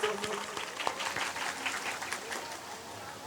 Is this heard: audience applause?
yes